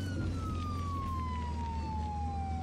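Ambulance siren from the Flashing Lights driving game, a steady wailing tone that glides slowly downward over a constant low engine rumble, loud and continuous with no talking.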